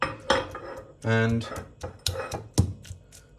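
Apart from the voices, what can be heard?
chilies and garlic cloves dropped into a pestle and mortar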